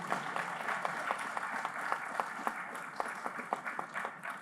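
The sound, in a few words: audience applause for speakers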